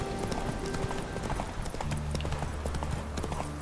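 Roach, the horse in The Witcher 3, gallops with a quick clip-clop of hooves over a steady game backdrop, moderately loud and without speech.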